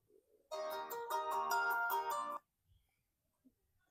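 A phone ringtone plays a bright, repeating melodic pattern for about two seconds, loud and close, then stops abruptly into near silence.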